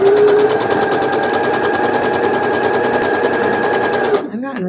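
A sewing machine stitching a seam on a quilt pinwheel block, running close and loud in a fast steady rhythm for about four seconds before stopping abruptly, with a voice speaking at the end.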